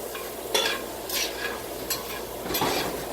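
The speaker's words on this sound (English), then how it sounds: "we're going to mix these shrimp around." Cajun-style shrimp mixed around in a hot pan: four or five distinct scraping strokes rise above a continuous sizzle, with nobody speaking.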